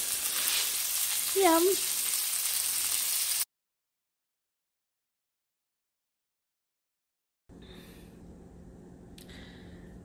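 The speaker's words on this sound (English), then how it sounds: "And the steak is sizzling." Steady hissing sizzle from steak frying in a pan, with a brief voice over it; the sound cuts out to silence, then the sizzling resumes more quietly.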